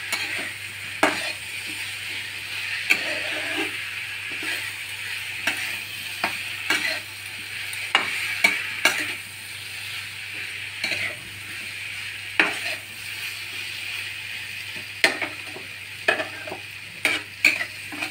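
Potatoes and jackfruit stir-frying with spices in a pan, a steady sizzle under repeated sharp clacks and scrapes of a metal spatula against the pan, close and with no talking.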